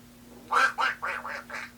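A voice imitates Donald Duck, giving five nasal quacks in quick succession, close and fairly loud, with no other talk.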